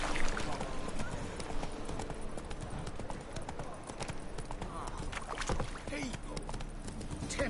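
Roach the horse in The Witcher 3 galloping with a steady, rapid clip-clop of hooves over constant ambient game noise, with a voice speaking at times.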